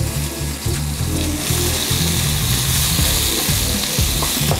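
Beef, broccoli and onions sizzle steadily in a hot stir-fry wok, a constant loud hiss with rhythmic low clatters and scrapes of stirring throughout, no voices.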